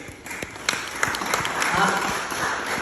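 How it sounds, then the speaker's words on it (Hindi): Church congregation clapping for Jesus Christ, a burst of brisk, scattered hand claps building into steady applause that fills the room, close and fairly loud. "Can you clap for Jesus Christ?"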